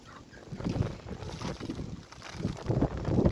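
Gusty wind with wet slanting snow buffets the microphone in uneven low rumbling surges, rising and falling over a few seconds.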